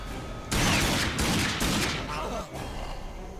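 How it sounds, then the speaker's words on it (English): Rapid gunfire erupts in the shooter game RAGE, loud overlapping bursts of automatic shots rattling for a few seconds and then easing into quieter scattered fire. "quit shooting me"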